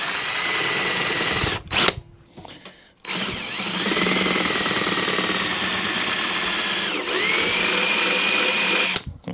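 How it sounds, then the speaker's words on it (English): A power drill boring a small screw hole in a small gravity-fed generator runs in long, loud, steady whirring bursts close by, briefly stopping and restarting with a pitch sweep as it bites and frees. "Just there, a little tiny screw hole, make it a bit neater, Mick."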